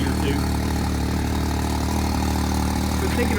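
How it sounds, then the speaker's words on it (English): A 2020 Can-Am Maverick X3 X mr Turbo RR fitted with an aftermarket exhaust idles nearby with a steady, deep, rumbling burble and no change in revs. "I like the exhaust. It sounds a little meatier too."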